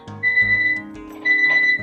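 A digital oven temperature alarm set to 180 degrees beeps in two clear repeated bursts of steady electronic tones, close and loud, with a kitchen hum underneath and no talking.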